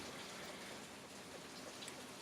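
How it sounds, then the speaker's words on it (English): Continuous rain patters steadily, dense and even but faint in level, with scattered individual drops and no speech over it. "the rain is so loud right now"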